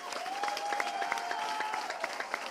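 A church congregation at a baptism service applauding the Lord, a dense, steady burst of clapping heard from a moderate distance, with a faint sustained tone running beneath it.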